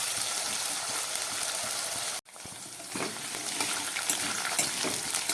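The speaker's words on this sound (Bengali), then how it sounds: "আলুটা আমার ভাজা হয়ে গেছে" Thin slices of a medium potato fry in hot oil with a continuous soft sizzle. The sizzle cuts out for a moment, then returns with denser crackling and popping.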